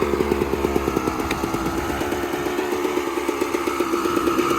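Dirt bike engine running steadily nearby, a loud, even rumble with a rapid regular firing pulse that holds throughout without pause.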